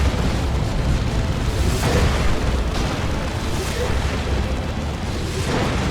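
Baneblade and Leman Russ tanks in Dawn of War 2 fire heavy booming shots that land as repeated explosions over a dense, rumbling battle bed. A commentator's voice runs underneath.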